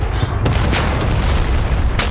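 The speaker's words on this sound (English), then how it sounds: "I thought it was artillery, not an airstrike." Airstrike explosion in a combat video game, heavy low rumbling boom with broadband bursts rolling over about two seconds, loud and dense with no talk.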